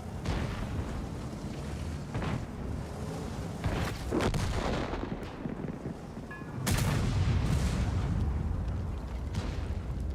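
Tank cannon blasts with high-explosive shells in a battle game, heavy booming shots amid rumbling gunfire, one especially loud close blast late on, no talk.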